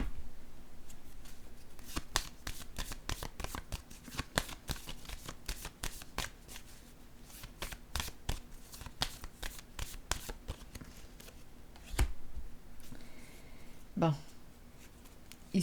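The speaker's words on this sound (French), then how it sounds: "Je pense que je vais piger une carte pour ici" Tarot cards are shuffled and drawn close up, producing a quick run of crisp riffling flicks and slaps that thin out into scattered taps and a few louder card snaps.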